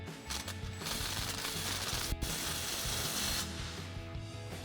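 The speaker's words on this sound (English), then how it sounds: "now we can go ahead and snug down this clamp using our 15mm socket on our impact" An impact wrench with a 15mm socket snugs down an exhaust clamp on a Ford F-250 MBRP Armor Plus single exhaust system, with close mechanical whirring and a short pause between bursts.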